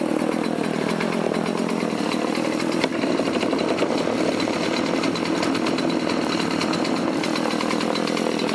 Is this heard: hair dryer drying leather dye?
no